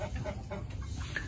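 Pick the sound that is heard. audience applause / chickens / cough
chickens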